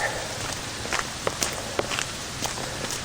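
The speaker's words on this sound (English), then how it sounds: "as I take a walk break" Footsteps of a runner slowing to a walk outdoors in the rain, a steady series of soft close-up steps over a constant hiss of falling rain.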